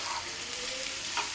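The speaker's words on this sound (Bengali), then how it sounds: "চুষা সুদ্ধি ভাজি হচ্ছে।" Pumpkin or vegetables fry in oil in a home kitchen pan, a soft, steady sizzling hiss that stays even throughout, heard close with no voices.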